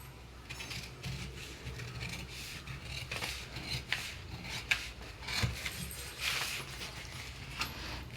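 Scissors snip and rasp through katori blouse fabric in a quiet room, a series of short crisp cuts and rubbing sounds at close range with no talking.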